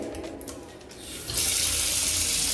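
Water gushes from a kitchen sink tap in a modern apartment, a faint trickle that abruptly turns into a loud, steady splashing stream at close range.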